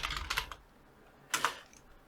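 Keys on a computer keyboard clatter close by in two quick bursts of typing with a brief pause between them.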